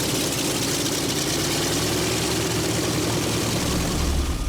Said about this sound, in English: Flight's rolling. The A-26 Invader from the Canadian Warplane Heritage